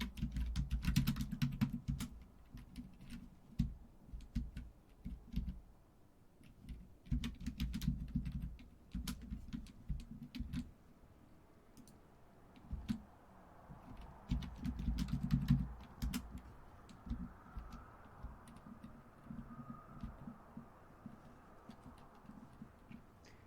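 A computer keyboard clatters with quick bursts of close, crisp key taps in uneven runs and short pauses, played against a low steady background hum.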